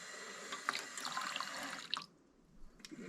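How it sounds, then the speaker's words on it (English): Water splashes and drips while a Bissell steam mop part is rinsed in a sink, a close, steady trickle with a few sharper drips, easing off near the end. "Give her a little rinse with water before we"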